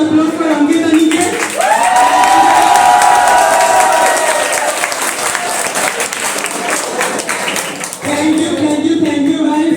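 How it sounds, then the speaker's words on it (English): Audience applause and cheering at an Arduino workshop, loud and sustained for about six seconds, with whoops and shouts rising over the clapping and some voices and music around it before and after. "Let's have a round of applause for Ankit and Niket."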